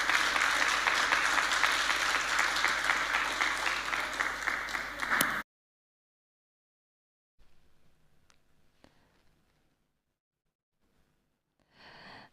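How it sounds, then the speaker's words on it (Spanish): A congregation at a Christian leaders' congress in Chile gives a burst of steady, full applause for a pastor for about five seconds. It stops abruptly, leaving near silence with faint scattered noises. "Vamos a dar aplausos."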